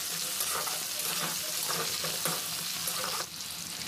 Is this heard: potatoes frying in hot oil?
yes